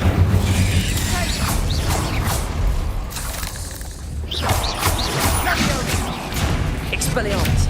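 An Incendio fire spell cast during a duel in Hogwarts Legacy, a loud whooshing burst with thuds and crashes in a busy spell-filled fight, heard alongside a voice.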